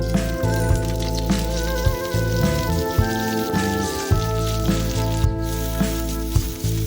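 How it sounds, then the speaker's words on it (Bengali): Chapa shutki, a dried fish, frying in a pan gives a continuous close sizzle with sputtering crackles and small sharp pops scattered through it. "আমি এখন চাপা শুটকিগুলো ভালোভাবে ভেজে নিচ্ছি"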